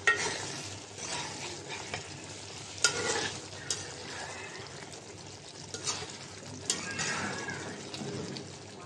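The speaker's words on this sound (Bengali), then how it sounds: "জিরার গুঁড়া দিয়ে নাড়াচাড়া দিয়ে নামিয়ে নেব।" Eel fish frying in a pan with cumin powder is stirred, giving steady sizzling with intermittent scraping and clattering strokes of the spoon against the pan, close and fairly loud.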